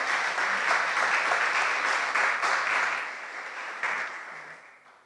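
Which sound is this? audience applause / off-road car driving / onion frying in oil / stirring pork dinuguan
audience applause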